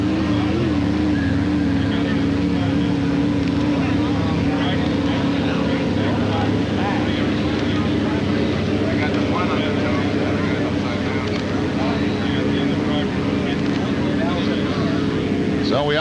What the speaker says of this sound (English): Ken Muscatel in the 93 boat.